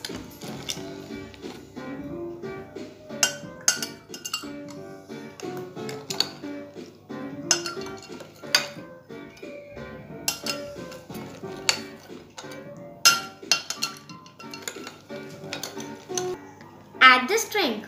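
Ice cubes clink and rattle into a glass and a bowl of water for a kitchen science experiment, with scattered bright clinks and knocks close by over a continuous low background, and a louder jumble of clinks near the end.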